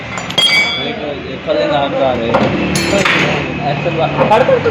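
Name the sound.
hitting a screwdriver to loosen a nut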